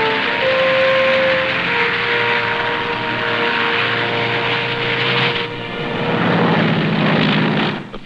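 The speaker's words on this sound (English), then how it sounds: "The first plane landed just 24 hours after the Seabees had started to work." Military aircraft landing on a freshly cleared island airstrip at Tarawa during WWII: loud, sustained engine drone that dips briefly and returns, with no talk.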